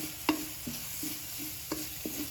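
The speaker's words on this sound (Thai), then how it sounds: "คั่วไปเลยให้เหลืองหอมนะครับ" A spatula scraping and tapping in a pan as Isaan-style ingredients are stir-fried until golden and fragrant, with several spaced clinks over a soft continuous sizzle.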